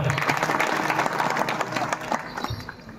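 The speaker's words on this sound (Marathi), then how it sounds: "पोरांसाठी टाळ्या वाजवा एकदा" An audience at a kirtan gives a burst of steady, loud applause for the boys who have just performed a devotional Marathi song. The clapping is dense and continuous, with a voice mixed in under it.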